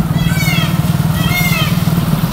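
A motorbike engine putters steadily as it rides along in the morning, close and continuous, with faint peacock calls and chirping high above the low throbbing.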